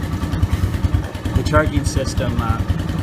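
A Bush Bear 150 motorcycle engine idles with a steady, even thumping putter, close and loud, while someone talks over it.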